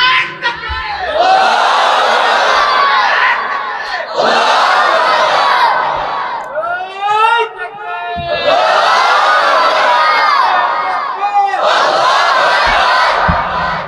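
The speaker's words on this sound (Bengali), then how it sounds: "একজন জোরে তাকবীর দেন তো দেখি।" A large crowd roars a loud collective takbir chant, shouting Allahu Akbar in long, full-throated bursts repeated four times with brief pauses between, at a Bangla religious gathering.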